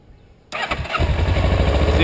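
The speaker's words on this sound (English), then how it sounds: "Let me turn the bike on." A motorcycle engine cranks and starts after half a second of near silence, catching abruptly and settling into a loud, close, rumbling idle.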